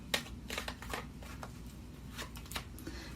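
Tarot cards handled and shuffled during a reading, soft, faint riffling and slapping bursts coming at irregular intervals over a low steady hum.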